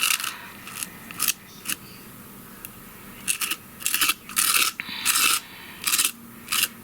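Short, gritty scraping strokes of a tool edge scraping up glitter paste against a hard surface in irregular bursts, close up, with quiet pauses between them.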